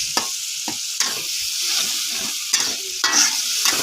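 Spices with lime leaves, tomato and chili stir-frying in a pan, a steady hiss with scraping stirs and occasional utensil clinks, close and alone.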